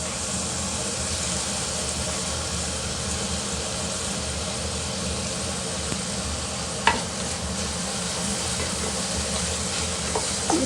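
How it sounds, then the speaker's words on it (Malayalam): Onions and tomatoes sauté in a pan for a soya chunks masala, giving a steady, broadband sizzling hiss that stays even throughout, with a single sharp clink of a utensil partway through, close and fairly loud. "ഇനി ഇത് ഉള്ളി വഴറ്റിയതിന് ശേഷം നമുക്ക് തക്കാളി ഇടാം."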